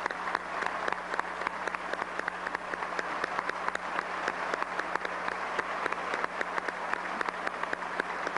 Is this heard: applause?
yes